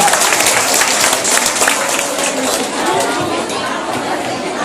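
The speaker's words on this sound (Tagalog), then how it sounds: "Sige po, huwag kayo magsawang pumalakpak" An audience bursts into loud, sustained applause at a live event, dense clapping mixed with cheers and crowd chatter throughout.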